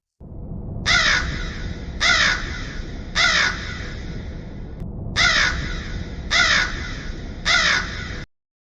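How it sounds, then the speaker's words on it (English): A crow caws six times, harsh loud calls spaced about a second apart over a steady background hiss, close and alone with no voices. "Crow."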